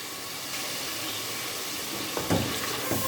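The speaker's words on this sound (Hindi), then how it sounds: "और अच्छी तरह मसाला भूनना है, नीचे ना लगे मसाला।" Masala spices fry in a pan for a gobi chicken curry, giving a steady close sizzling hiss that carries throughout, with a few brief clatters of stirring near the end.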